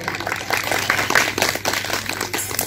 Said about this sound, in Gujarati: તો તમે આપણે જોરદાર તાળીઓથી વધાવીશું કે આવા સરસ શિક્ષકો તમને મળ્યા છે.